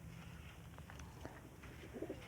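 Pigeons cooing faintly in the distance, a few soft low coos against a quiet background hum.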